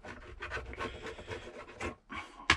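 Hand scraping of old, failed glue from a car's upper glovebox lid with a small scraper, a series of short rasping strokes in uneven rhythm, close and fairly quiet, with no talking.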